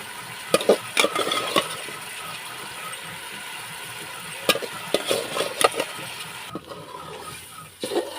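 Pieces of meat and fat dropped into hot oil in a pan for a chickpea dal, with a steady low sizzle broken by a few sharp clatters and stirring knocks, up close and with no talking.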